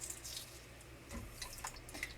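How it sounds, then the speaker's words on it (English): Tap water runs over quail eggs in a sink, a faint steady splash with small drips and clinks, quiet and close, with no talking. "Sometimes I like to add running water just to kind of help rinse off the eggs."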